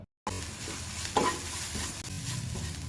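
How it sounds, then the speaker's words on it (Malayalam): Carrot, tomato and spices being sautéed and stirred in a pan, with a soft sizzle under scraping spatula strokes and a couple of sharper clinks against the pan, close and fairly quiet. "കാൽ ടീസ്പൂൺ ഗരം മസാലയും കുറച്ച് ഉപ്പും ചേർത്ത് വഴറ്റാം"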